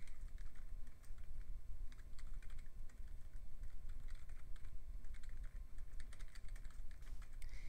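Quiet computer keyboard typing while chatting in Minecraft, a steady run of light rapid key clicks over a low background hum, no voices.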